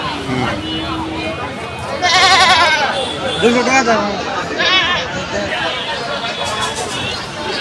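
Goats bleat repeatedly at a rural livestock market, several loud nearby calls rising over a steady murmur of people talking and crowd chatter.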